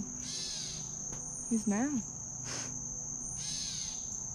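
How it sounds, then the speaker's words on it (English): A wild bird in the woods calls agitatedly with a short, harsh burst of squawks, fairly near, over a steady background of insect chirring, with someone briefly speaking. "Bird's going off about something."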